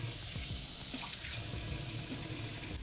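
Running tap water splashing into a sink while rinsing away a vinegar and toothpaste cleaning mixture, a steady close hiss of flowing water with small gurgles and spatters.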